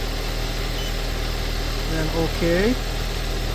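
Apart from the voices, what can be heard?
car engine running during alternator charge test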